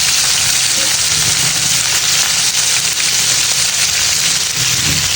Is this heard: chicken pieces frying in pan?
yes